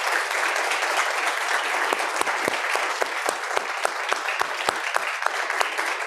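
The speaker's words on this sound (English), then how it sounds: "Can we give our panelists a round of applause?" A panel discussion audience gives sustained applause, a steady wash of many hands clapping at moderate volume with a few sharper individual claps standing out.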